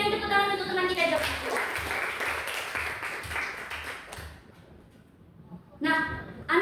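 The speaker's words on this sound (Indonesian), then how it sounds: "berikan tepuk tangan untuk teman kita Jogi." Classroom applause for a student presenter, a burst of clapping that swells and then fades to quiet, with a teacher's voice talking before and after.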